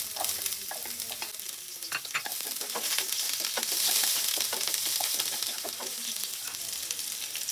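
Onions sizzle in a pan at the start of milkfish cooked in tomatoes, with a continuous hiss and frequent sharp scrapes and taps of a spatula stirring them, close by and unaccompanied by speech.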